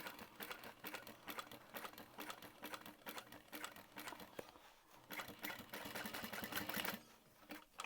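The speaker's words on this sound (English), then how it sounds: "I'm going to add a second row of stitching, just at like 1/8 of an inch" A sewing machine runs a second row of stitching about 1/8 inch in around a curve on a quilted crossbody bag, a steady mechanical whir and rapid clatter holding throughout with a brief lull near the middle.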